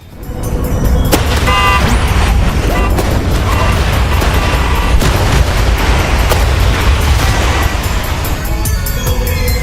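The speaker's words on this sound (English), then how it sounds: "A clusterfuck of trucks beeping ridiculously, driving around with their loud screeching of the tires and crashing" A loud, chaotic mix of truck horns honking, screeching tires and crashing booms from the game Clustertruck plays continuously, dense and cluttered throughout.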